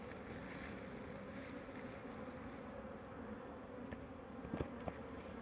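A bee swarm living in an old tire hums in a dense, steady drone close by, with a few louder bees passing near the end.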